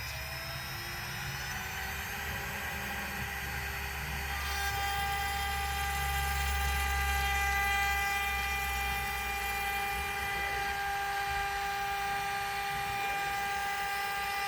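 A CNC router with a 1/2 inch 90-degree V-bit chamfers the corners of a valet tray, a steady high spindle whine with a low cutting rumble that swells in the middle, heard alone.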